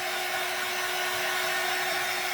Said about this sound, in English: You can use hair dryer or a heat tool. What you're doing with this dryer is literally just setting.